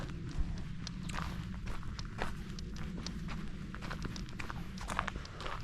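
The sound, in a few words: footsteps walking on a forest trail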